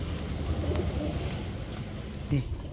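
Black Putul Gorra pigeons coo in low, soft bursts near the start and again near the end, over steady background noise.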